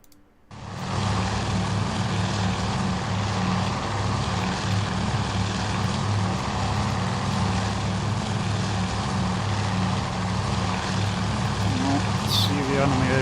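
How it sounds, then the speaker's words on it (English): Torpedo bombers flying in the naval strategy game Task Force Admiral, a loud steady propeller-engine drone that holds throughout, broad and unbroken, with a voice talking over it. "Looks like the torpedo bombers are going to be the first things to engage here."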